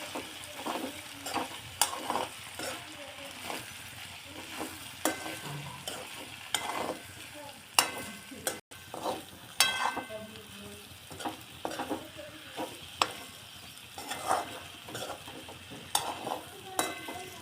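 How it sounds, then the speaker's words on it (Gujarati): Ivy gourd (tindora) curry being stirred in a hot pan with coriander-cumin powder, a steady sizzle and fry broken by repeated scraping stirs of the spoon, close and continuous throughout. "હવે નાખીશું ધાણા જીરું હલાવી નાખીશું"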